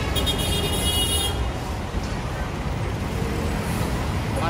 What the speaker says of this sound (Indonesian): Macet ya? Macet. Sama kayak di Jakarta.